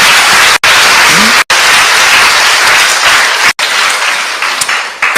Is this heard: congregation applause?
yes